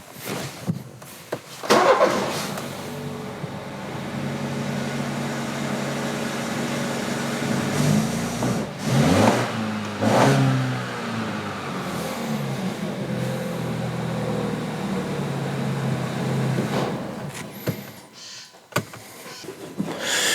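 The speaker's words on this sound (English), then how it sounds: "I'll just go and start the engine so you can see what that looks like" A car engine cranks and catches, settles into a steady running hum, then revs up a few times, heard close with no talking.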